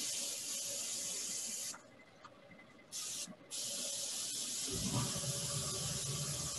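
An airbrush sprays paint over a stencil on a turned wood piece: a close, loud continuous hiss that cuts off twice for short pauses, then resumes heavier and fuller toward the end.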